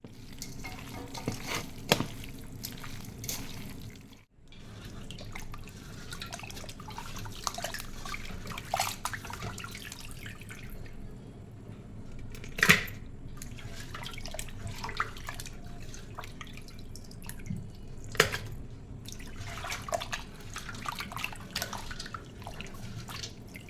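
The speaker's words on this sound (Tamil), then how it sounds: "எல்லாத்தையும் சேர்த்து நல்லா மிக்ஸ் பண்ணி நல்லா சுத்தம் பண்ணி கழுவி எடுத்துடலாம்" Raw chicken is washed in water with rock salt and turmeric, a continuous splashing and sloshing with drips and occasional clunks, close and fairly quiet, with no talking.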